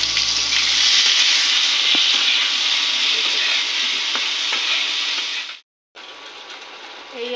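Onion, ginger and chili frying in a pan, a loud steady sizzle with occasional clicks of stirring, broken by a brief silence near the end before the sizzling resumes.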